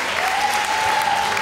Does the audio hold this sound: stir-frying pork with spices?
no